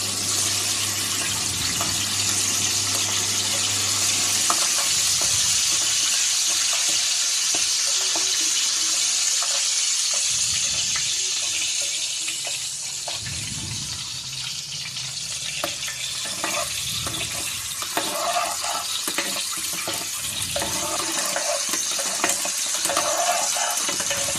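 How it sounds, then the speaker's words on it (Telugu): Eggs frying in a pan with chili powder, a continuous bright hiss of sizzling oil that stays steady and close throughout, with no speech. "కొద్దిగా కారం వేసుకొని గుడ్లు వేయించుకోవాలి"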